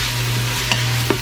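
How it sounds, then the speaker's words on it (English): A spoon stirs garlic, chopped scallions and celery in a pot, a short scrape with a couple of light clicks over a steady low hum and faint sizzle. "Give that a mix."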